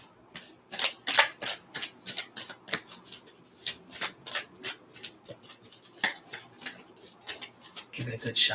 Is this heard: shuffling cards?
yes